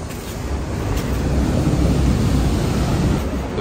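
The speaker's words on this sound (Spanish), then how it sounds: "Ya se escuchan las olas del mar." Ocean waves rolling in, heard from inside an upstairs bathroom of a beach house, a steady broad wash of surf that swells slightly and holds without a break.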